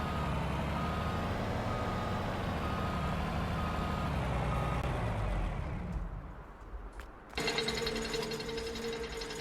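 A combine harvester in Farming Simulator 19 rumbles with a steady, loud engine drone and repeated reversing beeps. Its noise drops away briefly, then a new mechanical hum with a whining tone starts up.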